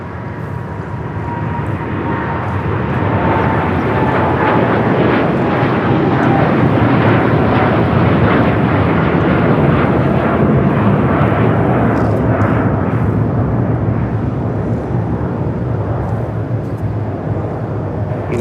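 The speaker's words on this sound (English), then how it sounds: "That is United Airlines 198 taking off to Shanghai on the 787-9 Dreamliner" A United Airlines Boeing 787-9 Dreamliner takes off from LAX, its jet engines a loud, sustained roar that holds steady throughout, with a faint whine riding over the broad rumble.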